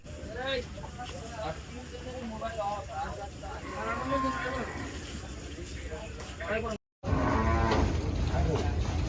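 Cattle at a busy livestock market, with several loud drawn-out moos rising and falling over steady crowd chatter and voices nearby.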